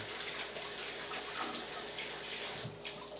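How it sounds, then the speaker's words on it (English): Hands being washed under a running kitchen tap, a steady close rush of water with small splashing variations throughout. "wash my hands here"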